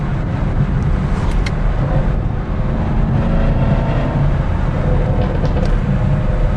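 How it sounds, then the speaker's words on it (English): A 2021 Chevrolet Camaro LT1 V8 with a basic exhaust system drones loudly and steadily, deep low rumble running throughout as it cruises with the exhaust humming continuously. "Pretty good sound too for this basic exhaust system."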